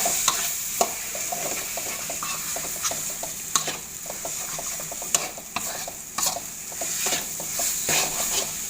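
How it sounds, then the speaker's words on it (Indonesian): Fish pieces stir-fried in a hot pan for laksa, with steady sizzling and repeated scraping, clinking stirs of a utensil against the pan, close and continuous throughout. "Kita masukkan semua ikannya. Kita oseng-oseng sebentar ya."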